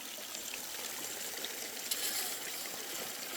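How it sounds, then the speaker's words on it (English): Constant water flowing into a bucket in a gold processing setup fed by a power washer, a steady, close, even rush and trickle that continues without pause and without talk. "it's got a constant water flow into the bucket, it's pushing out all the dirty sediment"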